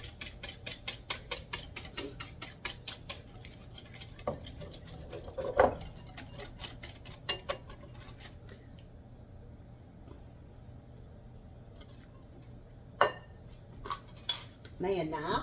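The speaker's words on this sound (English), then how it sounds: "Now we're going to whisk that around." A whisk rapidly beats a shrimp salad dressing in a bowl, making quick rhythmic metallic clicks up close, then slowing to a few scattered clinks and taps.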